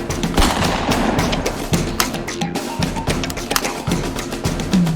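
Rapid gunshot sound effects during shooting practice, a dense, loud burst of repeated shots and clattering fire running continuously over the whole stretch with no pauses.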